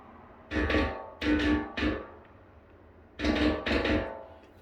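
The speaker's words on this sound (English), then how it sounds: "it's like a slap back with the echoes, with the wow and flutter still there in the background." A PT2399 delay set to its shortest time gives a quick slapback on each struck note, with a slight wavering wow and flutter, in two short bursts separated by a pause.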